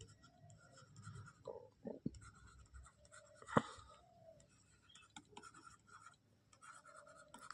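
Pen writing out the working of a math problem on paper: soft, irregular scratching strokes with a sharper tap near the middle, close and quiet, no talking.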